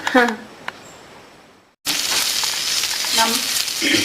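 Sardines roast wrapped in banana leaf on an oiled stone pan. A voice is heard briefly at first, then after a short near-silence a loud, steady hiss of sizzling carries on with faint crackles.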